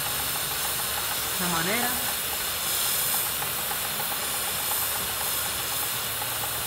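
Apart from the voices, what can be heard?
spraying degreaser onto a motorcycle chain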